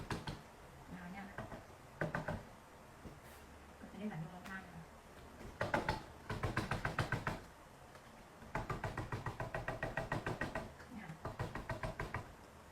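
A chocolate cake's pan is tapped repeatedly so a soft chocolate glaze runs down the sides, giving bursts of quick, close knocks in several rapid runs with a voice talking between them.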